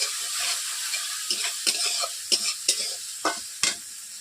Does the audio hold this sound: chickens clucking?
no